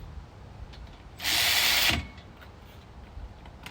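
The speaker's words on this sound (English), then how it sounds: "You want to make sure to get a couple threads in them. And then you'll just tighten them back." A power tool runs bolts on Cadillac Escalade brake calipers in a single loud burst of just under a second, standing out against a quiet garage background with no talking.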